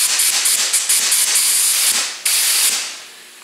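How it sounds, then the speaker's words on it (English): A spray gun sprays epoxy primer during a Mustang restoration, giving a loud, steady close hiss that pulses slightly, stops briefly, resumes, then tapers off into quiet. "I can spray the gun."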